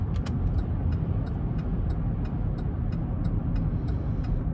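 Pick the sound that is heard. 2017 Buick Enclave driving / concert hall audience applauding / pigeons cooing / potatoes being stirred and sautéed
2017 Buick Enclave driving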